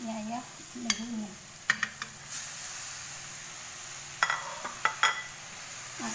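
Cooked vegetables with oil are stirred in a frying pan, with a low sizzle under sharp spatula scrapes and clinks against the pan; a voice murmurs briefly near the start.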